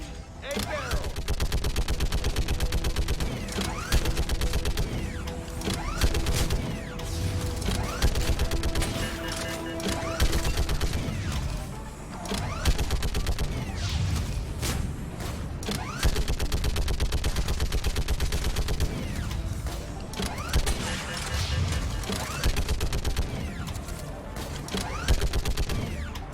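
Sustained gunfire in the space shooter Mass Effect Legendary Edition, with rapid bursts and repeated shots running nearly continuously under a dense game soundscape, loud throughout.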